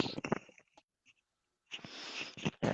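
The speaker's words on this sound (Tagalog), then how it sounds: "humihilik sila" People sleeping upstairs snore in two loud, rough breathy bursts close by, separated by a near-silent pause of about a second.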